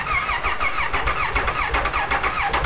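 A Bajaj motorcycle engine turns over and sputters on a starting attempt, a close, loud, pulsing mechanical chug lasting a few seconds, with no talking.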